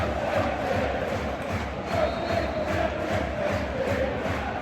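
A football stadium crowd at a West Brom versus Preston match roars and chants after a goal, a loud continuous wall of massed voices with rhythmic surges.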